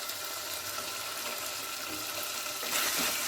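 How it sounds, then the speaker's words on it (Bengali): Chicken and liver sautéing in oil, a dense continuous sizzling hiss that swells louder near the end. "তো আমি ভালো করে কষিয়ে নিচ্ছি।"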